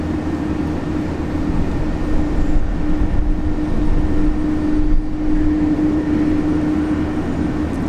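A Korean Air Boeing 787 Dreamliner at Brisbane International Airport produces a loud, steady jet engine roar with a constant hum, broad and unbroken throughout, with no voices.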